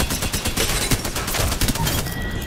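Rapid gunfire in the Apex Legends video game, a dense run of sharp repeated shots with booming impacts that continues almost without pause, loud and close, easing slightly toward the end.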